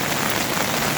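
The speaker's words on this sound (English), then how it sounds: "it is pouring down rain, absolutely pouring down" Heavy rain pours down at Ubud Water Palace, a dense, loud, continuous hiss of drops striking the ground and surfaces nearby.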